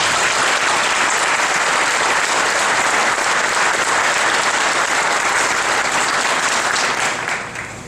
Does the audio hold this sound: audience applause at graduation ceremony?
yes